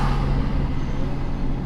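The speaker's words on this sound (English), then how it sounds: "There goes the Golf R making some turbo sounds." A Volkswagen Golf R at a car meet gives a loud, close turbo whoosh over a low engine rumble, sustained across the brief moment with no talking.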